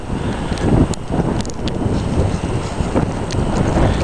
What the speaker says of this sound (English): Winds have picked up.